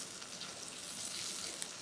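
Skate fish cooks as meunière in a pan over medium heat, a soft, even sizzle with faint crackle throughout and one small pop near the end.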